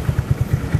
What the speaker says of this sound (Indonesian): Tadi knalpot kita belum dengar suaranya ya.